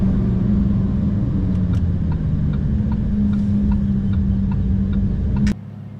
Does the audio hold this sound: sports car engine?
yes